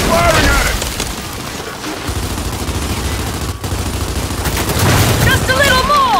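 Sustained gunfire in the video game Gears 5 Hivebusters, squad shooting at tree roots, a continuous loud barrage with booms, under overlapping voices talking.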